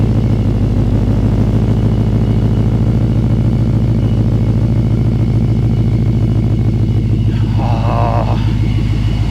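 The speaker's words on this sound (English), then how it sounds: "You shouldn't rev it up like that, especially after sitting for weeks." A Ford Mustang GT fitted with a ProCharger supercharger runs loud and close, giving a steady, throbbing engine rumble with a pulsing beat that holds for the whole stretch. No one speaks over it.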